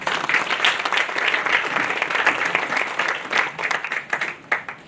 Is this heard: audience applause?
yes